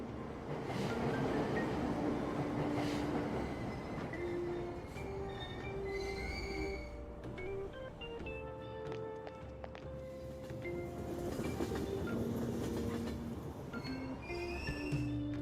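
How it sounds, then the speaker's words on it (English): A train in the video game Persona 5 Royal rolls along its rails with a steady rumble, and high squeals from the wheels rise and fade throughout. The sound is continuous and fairly quiet, and no one speaks. "Ride the train."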